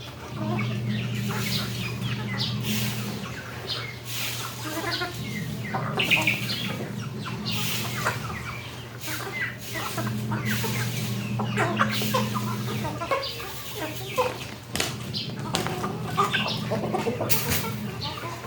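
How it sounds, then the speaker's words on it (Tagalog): Backyard flock of chickens clucking steadily throughout, with scattered chirps and calls over a constant low hum, fairly close and moderately loud. "Dami ng manok."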